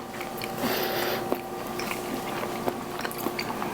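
Close, moist chewing of carrot cake topped with vanilla Cool Whip frosting, cinnamon and walnuts, with soft crunches and squishy bites repeating at an uneven pace and no talking.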